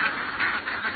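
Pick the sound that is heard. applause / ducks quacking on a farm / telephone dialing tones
ducks quacking on a farm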